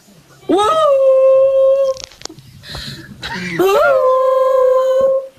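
A person's voice imitates a jackal howl in two long rising, wavering calls, loud and close, separated by a brief pause.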